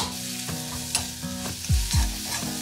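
Onion with Kashmiri red chilli powder, cumin powder, tomato ketchup and salt sautéed in a pan, a soft low sizzle broken by several rhythmic spatula scrapes and knocks up close, with no talking.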